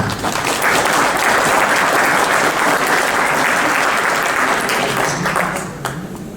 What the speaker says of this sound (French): Merci de les applaudir et de les encourager.